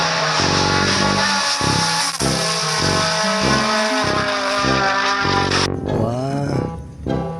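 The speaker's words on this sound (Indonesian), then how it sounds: "Ada mainan mobil balap teman-teman." Toy race car sound effect, a rhythmic pulsing engine-like electronic tone in repeated bursts that ends in a rising screech, like tires squealing, loud and close with no talk over it.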